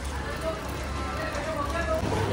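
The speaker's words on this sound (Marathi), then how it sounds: "इकडे चालू झाला पाऊस." Rain falling outside during a gathering: a steady, even hiss of rainfall that holds throughout, with faint voices murmuring underneath.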